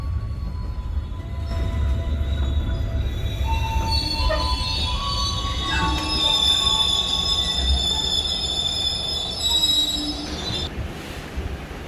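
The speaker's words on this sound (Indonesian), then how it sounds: "disambut dengan kereta api angkutan semen yang melintas langsung" Cement freight train rolling straight through Kutoarjo station, loud and close, with shrill wheel squeals rising and shifting over a heavy rumble for nearly twelve seconds.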